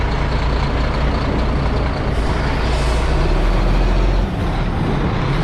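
An American-style truck on a road in Vietnam rumbles loud and close with a constant heavy engine drone and a brief air-brake hiss.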